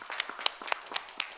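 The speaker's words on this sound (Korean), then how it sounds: "하나님께 영광의 박수를 드리겠습니다" A congregation at a church worship service gives a few sharp handclaps, faint and sparse, landing in an uneven rhythm over a little more than a second with no talking.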